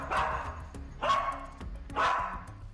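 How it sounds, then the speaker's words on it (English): A cadaver dog, trained to track the smell of dead bodies, barks three times at an even, roughly one-second spacing. The barks are fairly close and loud against a low background rumble. "A cadaver dog, which tracks the smell of a dead body, also grabbed Madeleine's favourite toy, Cuddle Cat"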